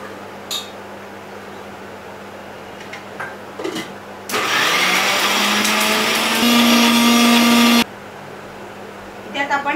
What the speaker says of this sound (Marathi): इथे आता आपण मक्याची पेस्ट करून घेऊया